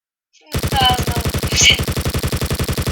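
Rapid automatic gunfire from a video game, Memes Wars 2, starts abruptly after a brief silence and continues as a loud, steady burst of evenly spaced shots, with a few brighter pings over the top.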